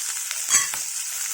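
A curry with tomato, salt and turmeric cooking in a pan makes a short, soft, steady sizzle close by, with a faint stir near the middle and no voices.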